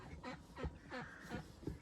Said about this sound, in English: in this one we have the 2 white Peking ducks, which I have to lift out because they're so big and fat